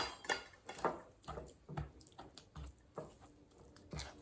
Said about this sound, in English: now I'm gonna add the pumpkin